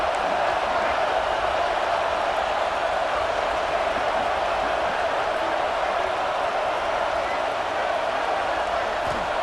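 Stadium crowd noise from the EA Sports College Football 26 video game fills the scene, a loud, constant roar of massed voices that holds steady from start to finish.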